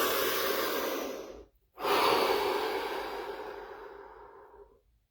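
Two deep breaths, close and breathy: a long inhale, a brief pause, then a slow exhale that fades away, with no talking.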